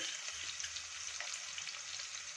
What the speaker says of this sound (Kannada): ಈರುಳ್ಳಿ ಬೇಗ ಫ್ರೈ ಆಗಬೇಕಂದ್ರೆ ಸ್ವಲ್ಪ ಉಪ್ಪನ್ನ ಸೇರಿಸ್ಕೊತಾ ಇದ್ದೀನಿ